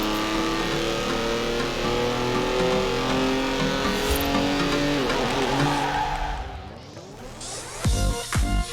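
Racing cars roaring through an arcade-style race in Forza Horizon 4, engines droning steadily with tire squeal, then revving and shifting sharply near the end over background music.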